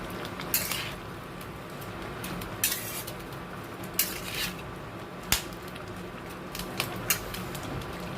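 Cutlery scrapes and knocks against a pan as chicken rezala with cashews is stirred over high heat, several sharp clinks standing out from a steady low background of cooking noise.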